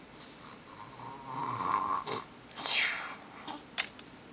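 A young child imitates snoring with a few breathy, rasping snorts in short bursts, close and fairly quiet, with snuffly pauses between them.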